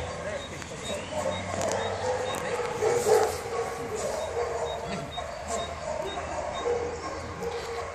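A dog at an animal shelter yips and whimpers over steady outdoor background noise, the small cries coming and going throughout while people talk nearby.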